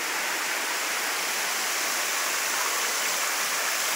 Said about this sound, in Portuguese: Olha quanta água caindo.